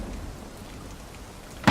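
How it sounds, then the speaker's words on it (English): Recorded thunderstorm ambience plays back as a continuous hiss of steady rain, ending in a sudden loud burst at the very end. "This is 3 hours of constant thunderstorm ambience."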